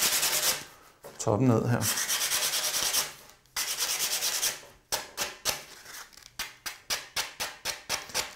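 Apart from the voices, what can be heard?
hand sanding a windowsill with grit 60 sandpaper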